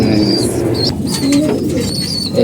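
Pigeons coo loudly and close in a loft housing paired birds and chicks, soft rolling calls over a busy, noisy background.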